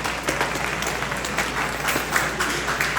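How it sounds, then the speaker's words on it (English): An audience at a high school presentation for incoming freshmen applauds, a dense, steady clapping from a crowd that fills the whole moment without speech. "You can give a clap right there."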